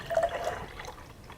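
Fresh citrus juice poured from a Cuisinart citrus juicer, a short close trickle that starts stronger and tapers off into a faint dribble.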